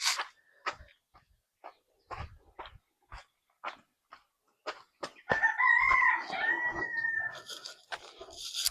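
Chickens in a brooding house of about a thousand chicks: scattered clucks and short calls at close range, then a loud sustained rooster-like crow over the last few seconds, with no talk.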